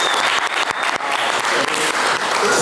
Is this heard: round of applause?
yes